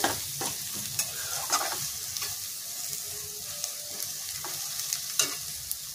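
Sattu gram flour frying in a pan for kala chana ghugni, with a soft continuous sizzle broken by intermittent scraping stirs of a spatula, fairly quiet and with no talk.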